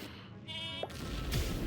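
A sheep in a video game lets out a short, clear bleat lasting about half a second, followed by a brief impact-like game sound and low background noise.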